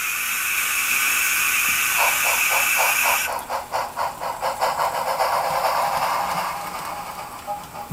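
A WoW Sound Decoder on a model train locomotive plays a loud, steady steam hiss that gives way to rhythmic chuffing beats partway through, then settles into quieter mechanical steam sounds.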